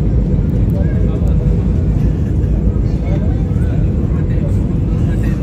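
A deep, steady engine roar fills the cabin of an airliner in flight over the sea near Colombo, Sri Lanka, a constant low rumble with faint murmur of people beneath.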